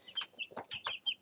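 Several chickens give short, quiet clucks in quick succession, close by with no talking.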